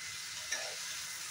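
Ginger and garlic paste fries in a pan with a steady, soft sizzle, with a couple of brief stirring scrapes near the start and at the end; no one speaks.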